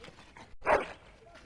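A dog in the Dragon Age Origins video game gives a short whine with a brief yip in a castle setting, heard once near the middle amid game dialogue and background ambience.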